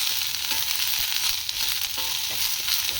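Curry base ingredients fry in about two spoons of oil in a pan, giving a steady, close crackling sizzle that runs unbroken throughout with no voices.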